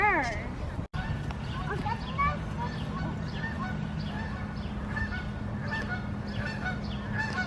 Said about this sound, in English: What's that sound? Geese.